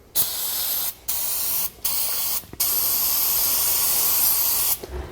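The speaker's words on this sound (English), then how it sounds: "We're going to spray it down with penetrating oil." Penetrating oil sprays onto rusty U-bolt hardware of a trailer axle in loud, close hissing bursts, four short pulses and then a longer continuous spray.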